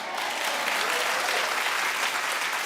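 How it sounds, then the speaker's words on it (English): A studio audience at a talk show bursts into dense, steady applause, loud and close throughout the brief moment with no voices over it. "clap louder!"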